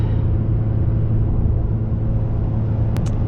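A car climbs a steep mountain highway toward the Coquihalla summit, its engine giving a steady, loud low drone with road rumble throughout, with no speech.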